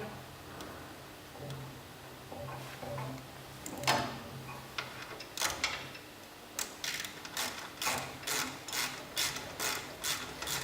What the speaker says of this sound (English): place it onto the drain plug and screw this back in to the thread where you unscrewed it earlier